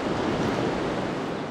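Strong, gusty wind roaring through ancient woodland in Kent, a dense, unbroken rush with no other sounds.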